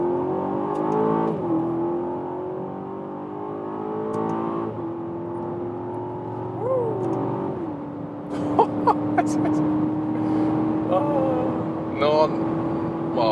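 An Aston Martin DBX performance SUV accelerates from inside the cabin, its engine note climbing steadily then dropping sharply at each gear change before settling into a steady drone, with a few brief clicks near the end.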